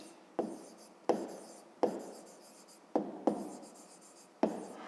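Handwriting for a fifth-grade maths exercise: six distinct pen-on-paper scratching strokes, each a sharp onset fading out, spaced about a second apart, close and fairly quiet with no talk.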